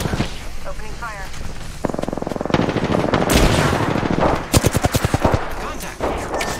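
Automatic weapon fire in the video game Apex Legends, bursts of rapid shots building into sustained gunfire with sharp single reports near the end, under in-game chatter and effects.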